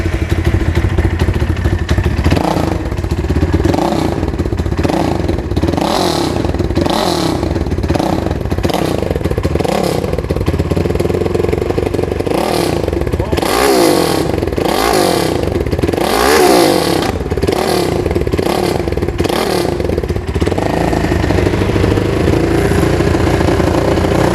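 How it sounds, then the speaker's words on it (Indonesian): An SND ZS 190 motorcycle engine swapped into a Honda Win 100 runs loud and close, revving up and down repeatedly over a rough, clattering idle, with no talking. "jadi kita akan mencoba cek sound dari mesin SND 190 ini"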